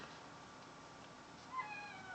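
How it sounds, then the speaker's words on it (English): A cat meows at a door, very faint and distant, a couple of brief thin cries near the end above a quiet hiss of room noise. "My cat's meowing at the door."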